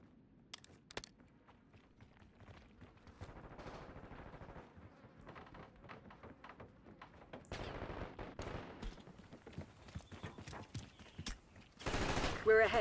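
Call of Duty Black Ops 6 gunfire in a Kill Order match comes as rapid automatic bursts and scattered shots, moderately loud and mixed with game ambience, with a heavy burst building near the end.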